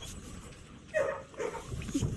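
A pup being petted in the video game Blue Prince gives soft little whimpers and yips, brief and faint, over a low background.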